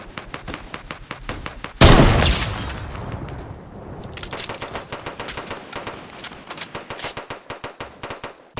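Rapid rifle fire in a shooter video game, a sustained rattling burst of closely spaced shots, a loud blast with a ringing tail, then more steady automatic gunfire continuing to the end.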